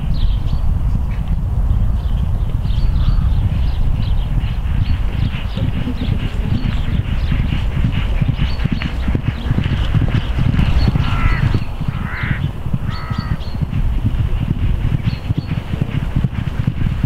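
Thoroughbred racehorses cantering on the training gallops at Mark Johnston's yard in the morning, with a steady drumming of hooves over heavy wind rumble and a few faint bird calls.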